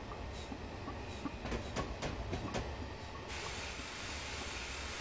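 A BR Class 9F steam locomotive in Train Simulator 2015 runs on the Somerset and Dorset line, a steady rushing rumble and hiss with a run of rhythmic chuffs and clanks midway.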